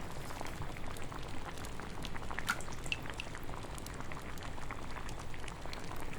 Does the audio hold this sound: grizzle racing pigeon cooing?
no